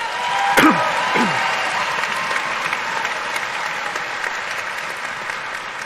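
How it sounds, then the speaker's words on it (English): A crowd at a high school graduation claps steadily throughout, a dense continuous applause, with a couple of brief whistles near the start. "let's give her another round of applause"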